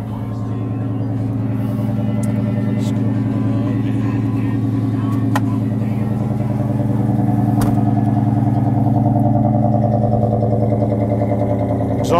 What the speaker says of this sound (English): Let's go ahead and start it up so you can see it.